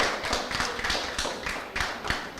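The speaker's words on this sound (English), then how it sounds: "we're not going to have applause in between" Applause from an audience at a school board of education meeting, a steady wash of many hands clapping at moderate loudness throughout, with no voices over it.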